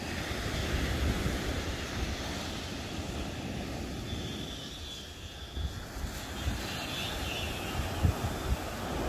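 Waves washing onto a beach on a chilly day, a steady soft roar of surf with wind rumble and a few small swells in loudness.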